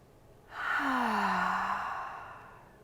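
One long, deep breath during a yoga session, a breathy whoosh with a faint voiced tone that swells quickly, holds, then slowly fades, close and alone.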